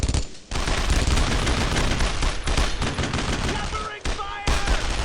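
Dense gunfire in the World War II shooter Brothers in Arms: Road to Hill 30, loud rattling bursts and overlapping shots that fill the scene, with a brief lull near the start and a short pause near the end.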